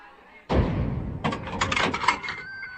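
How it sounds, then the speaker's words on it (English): A heavy door is shut and fastened in a hall, with one loud slam followed by a stretch of clattering metallic thumps and rattles. "fasten the door shut."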